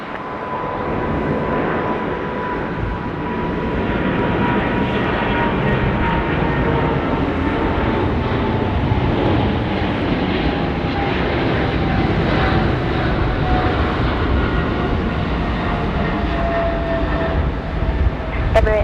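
A Qantas airliner lands on runway 34 left at Sydney Airport in the evening, a continuous loud jet rumble with a faint whine that slowly falls in pitch, with voices faintly underneath.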